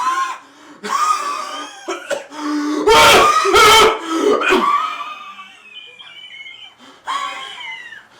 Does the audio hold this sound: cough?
yes